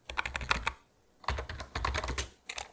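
Someone types a file name on a computer keyboard in quick clattering bursts of keystrokes, broken by a short pause, close and clear with no talk.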